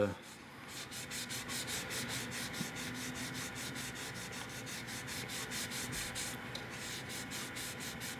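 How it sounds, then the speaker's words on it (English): Steady, rhythmic back-and-forth light sanding over decals on a 1/12 scale Maserati 250F model, scratchy strokes repeating evenly for several seconds with no talking. "start sanding over the decals"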